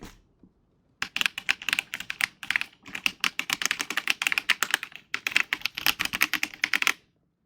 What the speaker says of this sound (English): The spacebar thunks instead of clicking. All the other ones click.